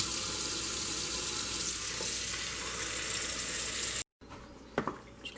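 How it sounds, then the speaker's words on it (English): Cold tap water pours into a bowl of freshly picked dandelion flowers, a loud, steady hiss lasting about four seconds that stops abruptly, followed by a few faint clinks. "So into the bowl, cold water."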